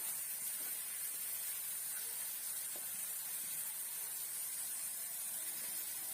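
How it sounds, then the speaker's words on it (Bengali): Masala for a bhuna of baim fish sizzling in the pan after a splash of water, a steady, fairly quiet hiss with faint crackles throughout. "এখন দিয়ে দিলাম একটু জল দিয়ে আমি মশলাটা কষিয়ে নিব"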